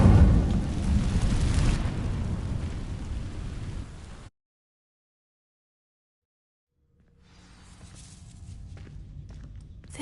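Incendio fire spell cast onto dry vines in a Harry Potter video game, a loud rushing whoosh and roar of flames that cuts off abruptly into silence before a lower rumbling crackle returns.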